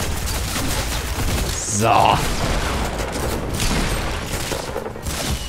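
Gunfire from an AK assault rifle in Fortnite Battle Royale, a busy burst of shots and a boom-like hit near the middle over a noisy game mix, with someone talking over it.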